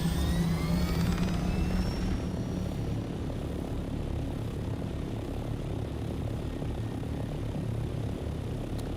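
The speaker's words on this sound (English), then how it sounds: "Okay, time for a flight back." Aircraft engine drone during flight in the video game Chrono Odyssey, a steady, loud propeller-like hum that holds evenly throughout with no talking.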